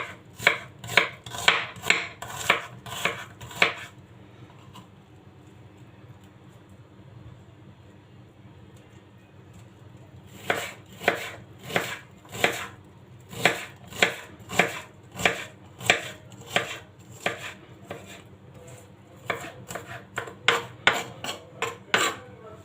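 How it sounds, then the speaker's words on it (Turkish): Rhythmic knife chopping of onion on a cutting board, quick bursts of crisp taps with a pause in the middle, then more chopping, close and clear. "soğanı fazla ince doğramamıza gerek yok"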